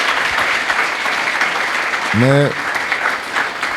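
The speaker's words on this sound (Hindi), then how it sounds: "ज़रूर ताली बजा सकते हो इसके लिए" An audience applauds in a hall during a talk to students, a brief burst of clapping as someone speaks over it.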